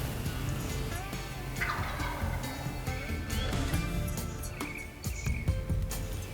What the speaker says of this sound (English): He's gobbling like crazy